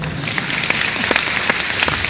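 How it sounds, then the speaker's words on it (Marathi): An audience at an award felicitation ceremony in Pune claps in a dense, steady patter of many hands, moderately loud and continuous with a few sharper individual claps standing out. "तिच्याकरता टाळ्या वाजवा."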